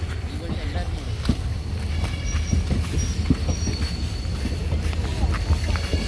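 Train running on the Punalur to Aryankavu line, a steady low rumble with faint squeals and clattering throughout, voices mixed into the noise.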